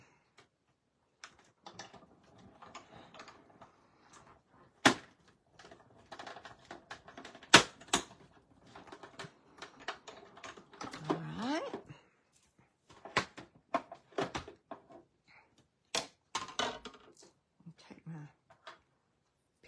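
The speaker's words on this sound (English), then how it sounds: "Grab my number 3 plate, and we're going to cut it." A die cutting machine presses card with a number 3 cutting plate, making scattered sharp clicks and snaps with a brief whirring sweep partway through, fairly quiet overall.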